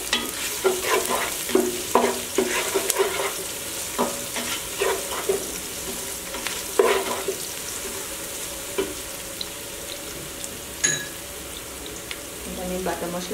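Whole spices (cinnamon sticks, green cardamom, cloves and black peppercorns) sizzle in oil for beef biryani, a continuous close hiss broken by frequent clinks and scrapes of a spoon in the pot, with no voice heard.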